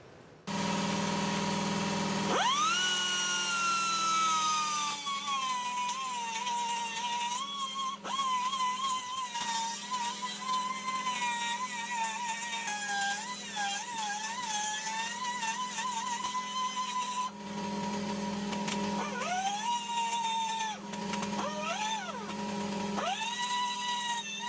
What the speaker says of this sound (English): I'll take a sanding disc and I'll smooth up these welds, and then I will take my rotary file and use it on the inside to clean up the hole